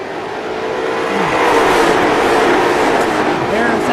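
Late model stock cars roar past on an oval short track during a 250-lap memorial race, their engines forming a loud, steady drone that swells toward the middle. An announcer's voice runs over the engine noise.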